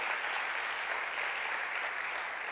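A church congregation applauding, giving God a strong round of applause during a sermon: continuous, even, dense clapping from a large crowd, a steady wash of sound with no gaps across the whole stretch.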